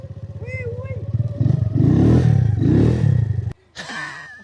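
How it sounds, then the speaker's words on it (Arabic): A motorcycle engine revs and accelerates in rising bursts during a ride, loud and close, then cuts off abruptly near the end before starting again, with voices speaking over it. "اقول له ما شاء الله احلى تجربه دباب"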